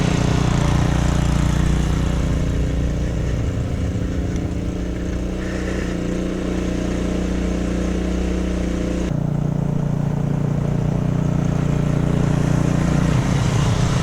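A small engine on a minimal garden railway runs continuously under autumn leaves, a loud, even drone with a low steady hum that shifts in tone midway, with no speech.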